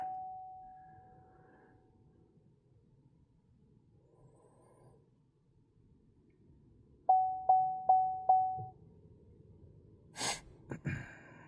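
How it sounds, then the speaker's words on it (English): A key-on warning chime from a Chevrolet Silverado with a 5.3 engine, four quick close dings in a steady row, followed by a couple of brief clunks and a low background hum. "Turn the key on. Yes. Sorry about the chime."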